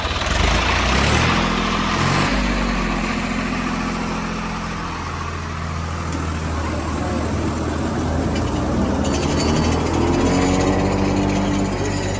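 A diesel tractor engine runs steadily and loudly in a field during maize silage cutting, a low rumbling drone with slight rises in intensity.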